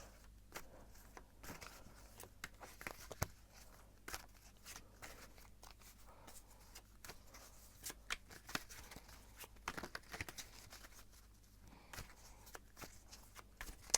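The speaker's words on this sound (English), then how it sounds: "I'm going to shuffle and see what the cards have to say" Tarot cards being shuffled by hand, a quiet run of rapid papery riffles and soft slaps repeating irregularly throughout, close and alone with no talk.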